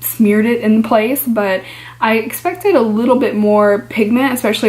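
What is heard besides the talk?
No distinct noise like a dog, phone or traffic.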